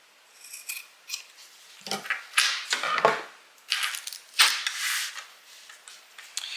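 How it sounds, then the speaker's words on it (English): Scissors snipping excess fabric zipper tabs level with the zipper tape while making a pouch, a close, crisp series of uneven cuts and blade rasps with no talking. "I'm just going to trim off the extra so that it's even with my zipper tape."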